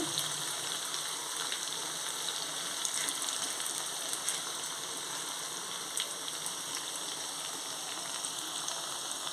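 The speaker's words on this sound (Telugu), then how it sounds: "అలా వేగుతూ ఉంటుంది మీడియం ఫ్లేమ్లోనే వేపుకోవాలి" Fish pieces fry in a pan over a medium flame, a steady, dense, close sizzle that crackles continuously without a break and with no voices.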